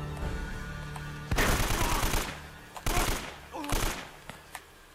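Bursts of rapid gunfire from a firefight in the video game Uncharted: Drake's Fortune, coming in several loud volleys separated by short gaps.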